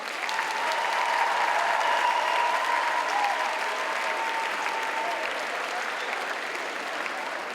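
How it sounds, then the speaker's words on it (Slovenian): Audience at a school charity concert applauding the headmaster, a dense, sustained round of clapping filling the hall and slowly easing off toward the end. "Sedaj pa prosim en velik aplavz za našega ravnatelja, profesorja Igorja Marneta,"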